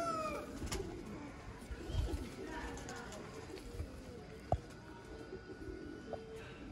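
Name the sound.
red-eyed pigeons cooing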